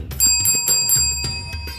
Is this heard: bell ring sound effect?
yes